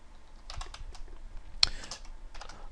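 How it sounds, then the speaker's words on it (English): Bursts of rapid typing on a computer keyboard, clattering keys in quick uneven runs with short pauses and one sharper key strike, close and fairly quiet with no talking. "I'm sitting here typing all this gibberish out"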